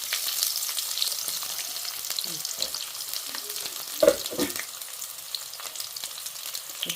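Small sambar onions go into hot oil in a pan for a fish kuzhambu and fry with a steady close sizzle, with scattered crackles and a brief clatter of stirring partway through.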